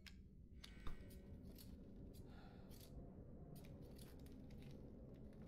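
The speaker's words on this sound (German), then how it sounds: "Die Schere arbeitet alleine." Scissors snipping on their own in Resident Evil Village, a few faint, crisp cuts spread across a quiet, low-humming game ambience.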